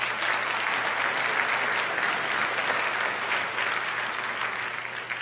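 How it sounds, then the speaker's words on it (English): A debate audience gives a sustained round of applause, a dense, steady wash of many hands clapping at once that holds strong for several seconds before slowly easing off toward the end. "I really want to thank you one more time with a round of applause from everybody."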